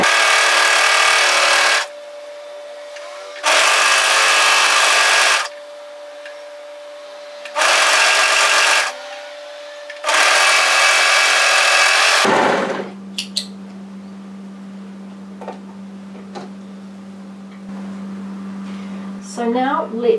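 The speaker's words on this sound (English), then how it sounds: "And overlock through to the hem." An overlocker runs a hoodie seam through to the hem in four loud, steady bursts of fast mechanical whirring separated by short pauses, then stops, leaving a low steady hum with faint handling noises.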